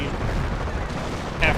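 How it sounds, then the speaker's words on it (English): Counter-barrage artillery fire in Company of Heroes, a continuous battlefield din of booms and gunfire with a brief sharper crack near the end, heard under talk. "It looks like that the counter barrage is activated there, getting some good shots"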